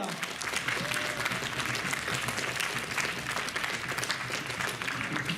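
Audience applause for a cosplayer at a brony fan convention, sustained dense clapping from a large crowd, even and steady throughout, with a faint voice briefly rising through the noise.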